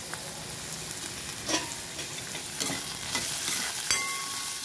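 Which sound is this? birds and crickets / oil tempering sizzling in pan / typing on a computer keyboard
oil tempering sizzling in pan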